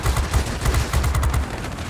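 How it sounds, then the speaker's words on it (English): Rapid gunfire aimed at an IL-1 aircraft in the video game World of Warplanes, loud dense bursts of shots rattling continuously over engine roar. "Something is shooting at me,"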